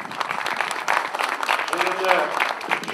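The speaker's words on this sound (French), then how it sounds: "sous vos applaudissements bien entendu." A crowd claps at a formal ceremony, the applause mixed with talking and cheering voices, with one voice rising briefly midway.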